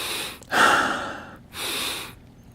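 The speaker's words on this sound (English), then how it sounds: "After that, we do stomach breathing." Two deep stomach breaths, each a broad airy rush lasting about a second with a short pause between, close and fairly loud, part of a breathing exercise in a sound healing workshop.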